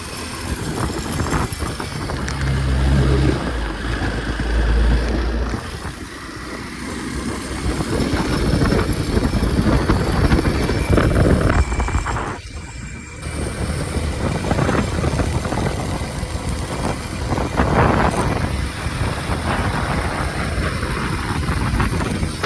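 A Kawasaki KLX230 motorcycle engine runs steadily while riding, a continuous loud drone with wind rush and shifting revs throughout, dipping briefly midway before picking back up.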